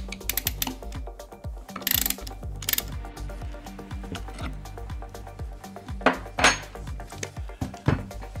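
The ratcheting spindle of a Festool OF 1400 router is worked with a spanner, giving rapid close metallic clicks in uneven bursts with occasional clanks of the tool, and no talk.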